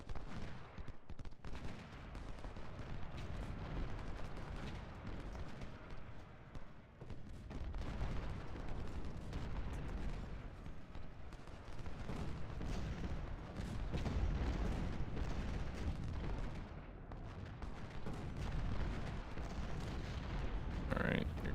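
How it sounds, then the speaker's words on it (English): Civil War cannon batteries fire from the rear in the Ultimate General: Civil War strategy game, a steady rumble of booms and crackling musketry rolling continuously at moderate distance with no voices over it. "Artillery's firing in support in the rear."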